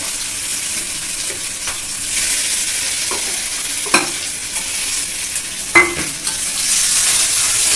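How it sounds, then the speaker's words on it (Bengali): Potatoes for an aloo chop filling fry in mustard oil, a loud close hiss and sizzle with several scraping, clacking stirs of a spoon against the pan. "এই আলুটা আমি এই তেলের মধ্যে দিয়ে দিলাম সম্পূর্ণ আলুটা দিয়ে দেবো"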